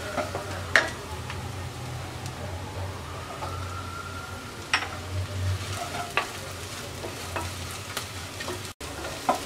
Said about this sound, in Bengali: পেঁয়াজ রসুন ভাজার পর দিয়ে দিচ্ছি 3টা কাঁচামরিচ কুচি